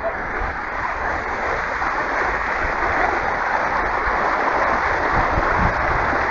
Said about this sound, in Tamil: இங்கே இந்த தண்ணி இப்படி வந்து புழுவுது